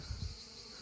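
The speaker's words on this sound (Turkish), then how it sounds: "Şu an bayağı vızır vızır her taraf arı." Honeybees buzzing around a hive in Trabzon, a brief dense hum of many insects close by, with no talk.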